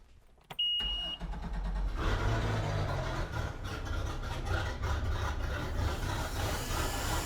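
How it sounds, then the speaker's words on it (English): A MerCruiser sterndrive inboard boat engine, run during winterization, cranks and catches after a brief click and whine, then settles into a steady, rumbling idle close by. "start our engine"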